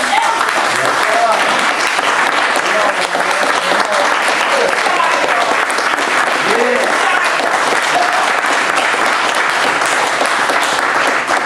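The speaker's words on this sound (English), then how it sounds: "Give a round of applause to Brother Gresham." Sustained, loud applause from an audience at a community film discussion, a dense wash of many clapping hands carrying on evenly for several seconds with scattered voices mixed in.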